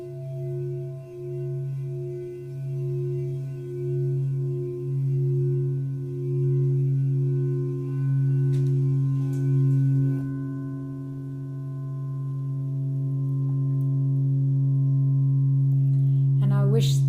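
Sustained ringing tone from a crystal singing bowl, pulsing gently in volume as it is rubbed around the rim, then holding steady and pure, close and clear.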